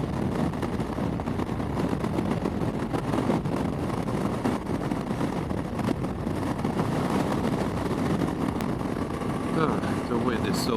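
Steady, loud wind buffeting while riding a Yamaha Tenere 700 motorcycle, a continuous roaring rush with engine and road noise underneath for the whole stretch, no clear break in the blast.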